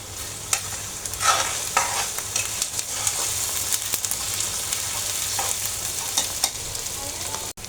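Ginger paste frying in very hot oil for a shrimp and Malabar spinach potato curry, a steady close sizzle with scraping stirs and small spatters throughout, no talking.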